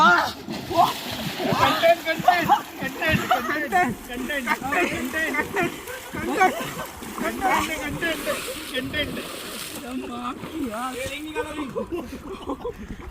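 People splash about while swimming in icy cold water, with water sloshing close by under loud, excited talking and shouting throughout.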